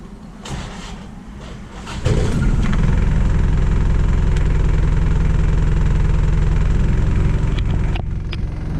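Toyota Hilux engine idling low, under 1000 RPM, during power steering bleeding: a few quieter knocks and rattles, then a steady loud rumbling idle that holds close and continuous for the rest of the clip.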